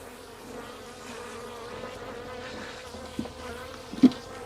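Low, steady buzzing of many honey bees in a hive, soft and continuous, with a brief louder buzz near the end.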